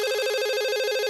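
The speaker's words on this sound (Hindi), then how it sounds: "अरे कौन फोन कर रहा है क्या?" Telephone ringing in a Hindi cartoon, a steady electronic ring tone with rapid pulsing, clear and close, with no talk over it.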